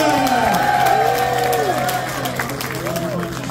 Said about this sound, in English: Big round of applause for Mauro